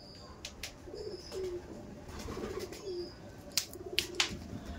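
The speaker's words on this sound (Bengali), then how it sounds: "একদম রেডি টু ব্রিড পায়রা আছে" Kasmadom and Chini Kaldom pigeons give repeated low, throaty coos close by, with a few sharp chirps and faint wing or cage noises, over a quiet background with occasional voices.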